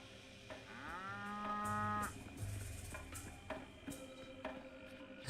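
Cows in a video game moo several times in a row, long drawn-out calls over a soft background of clicks and bustle.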